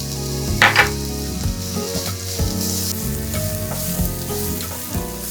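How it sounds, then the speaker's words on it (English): Spices and chilies hitting preheated oil in a pan for Thai pad kra pao, a dense, loud frying sizzle with brief sharper crackles and stirring scrapes over steady tonal music. "Once the pan is preheated, add all the spices you just caught, including the chilies."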